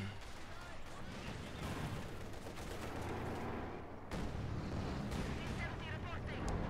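An artillery barrage in Company of Heroes 2 sends dense, continuous rolling booms and crackling blasts that stay loud for the whole stretch, with a fresh surge of impacts partway through.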